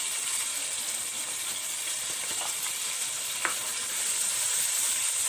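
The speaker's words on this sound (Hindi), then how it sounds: "इनको हम अच्छे से सौते करेंगे।" Roughly chopped onions sautéing in about half a cup of oil make a continuous, dense sizzle up close, with a couple of faint clinks and a slight swell in hiss toward the end; nobody speaks.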